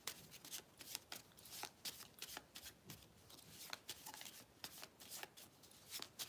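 Tarot cards being shuffled by hand, a rapid papery riffling and flicking that comes in repeated bursts close up, with no voices over it.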